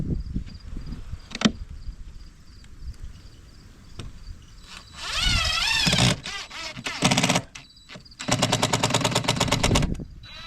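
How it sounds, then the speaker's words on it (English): A power stapler is fired into small boards on a wooden chicken coop: a few quiet clicks at first, then loud close bursts of whirring and rapid mechanical rattling, with outdoor insect chirping behind. "I'm just gonna staple these two little boards in there to just kind of block the holes a little bit"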